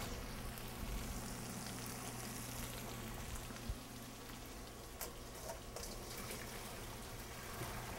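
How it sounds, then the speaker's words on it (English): Boiled pasta drained into a colander in a home kitchen, a steady watery rush and splatter under a low continuous hum, lasting throughout without talk. "We're ready to drain our pasta."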